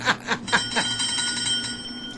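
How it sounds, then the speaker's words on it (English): A rapid run of about four bright bell dings, like a bicycle bell, rung near the microphone during a talk show, followed by a lingering ringing tone that slowly fades. "I got the bell on that one"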